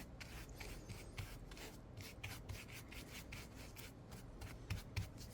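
Wax is rubbed by hand onto milk-painted wooden furniture, a close, quiet, continuous scrubbing rasp with repeated strokes and no talking.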